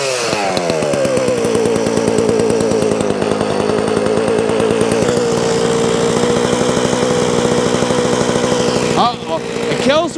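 An old, very heavy Sachs Dolmar 133 chainsaw, freshly revived, idles and revs loudly up close with a rough, continuous two-stroke buzz, then sputters and dips near the end.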